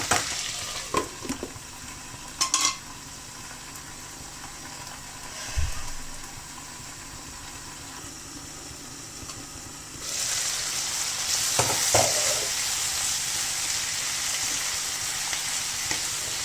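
An onion mixture sautéing in a pan for paneer curry, with a low steady sizzle, several sharp utensil knocks and scrapes, and the frying growing louder in the second half. No talk.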